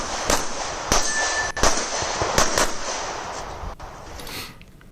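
A Glock 43X pistol fires at steel targets at a USPSA match, several sharp bangs spaced irregularly with ringing metallic clangs from the plates, fairly loud outdoors.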